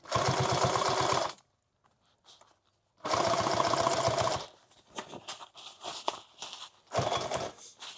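A sewing machine stitches through a padded foam helmet and night-vision bag in loud, close bursts of about a second each. Quiet gaps of fabric handling and shuffling separate the runs.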